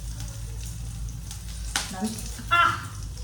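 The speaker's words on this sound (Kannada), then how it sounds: "ಎಣ್ಣೆ ಹಾಕಿ ಆದಮೇಲೆ ಕಟ್ ಮಾಡ್ಕೊಂಡಿರೋ ಶುಂಠಿ ಆಮೇಲೆ ಬೆಳ್ಳುಳ್ಳಿ" Chopped ginger and garlic sizzle in hot oil in a home kitchen, a soft steady crackle with a few louder spits and stirring sounds, and a voice briefly in the background.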